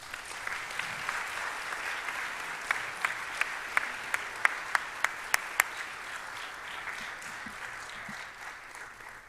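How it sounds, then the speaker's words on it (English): Audience applauding after two student speakers at a talk, a steady wash of many hands clapping, moderately distant, with a few sharp nearby claps standing out and the applause slowly fading. "let's give another round of applause to our two speakers, to Ariel and to Sophie."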